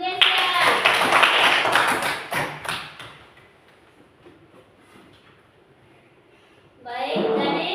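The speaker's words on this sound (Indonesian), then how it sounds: "Ya, tepuk tangan untuk Gesya." A classroom of students claps together in a loud burst of applause lasting about three seconds, then it quiets, and voices start talking again near the end.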